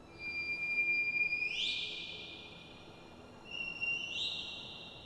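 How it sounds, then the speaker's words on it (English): High, thin whistle tones from the reed whistle blown by Kuro in the video game Sekiro: Shadows Die Twice, two short rising calls with a sustained note between, faint and alone over quiet game ambience. "That's actually Kuro blowing the reed whistle, as you can hear."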